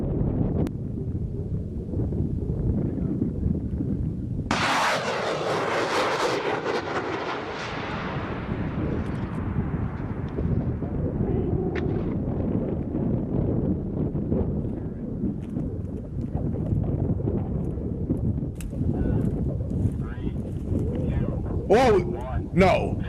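A Mark 154 mine-clearing line charge fired from an AAV detonates in a sudden, loud, broadband blast whose roar decays over several seconds, heard outdoors over steady wind noise.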